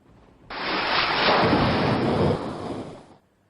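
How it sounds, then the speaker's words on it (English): A thunderstorm rumbles as loud, sustained thunder swells in, rolls steadily for a few seconds with broad heavy noise, then fades away, with no voices present. "Thunder is a very spectacular scenery in nature."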